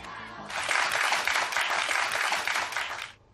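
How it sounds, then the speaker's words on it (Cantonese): An audience at a primary school inter-school general knowledge quiz competition bursts into loud clapping and cheering, a dense roar of about two and a half seconds that then cuts off sharply. "連觀眾都一樣咁投入打氣㗎"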